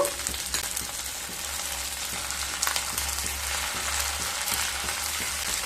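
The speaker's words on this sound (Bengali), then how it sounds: "পেঁয়াজ আর রসুন হালকা ভাজা হয়ে গেলে এবার চিংড়ি মাছগুলোকে দিয়ে দেব" Shrimp hiss and crackle in hot oil with lightly fried onion and garlic, cooking for potol chingri bharta; a steady, close sizzle runs throughout with no talking.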